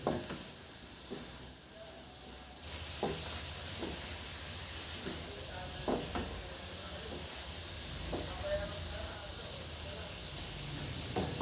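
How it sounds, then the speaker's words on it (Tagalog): Steamed cauliflower being tossed and stirred through a toasted garlic sauce in a pan, a soft continuous sizzle broken by repeated utensil scrapes and clinks against the pan, fairly quiet. "Ihalo lang na mabuti hanggang sa makoat lang ng sauce yung ating cauliflower"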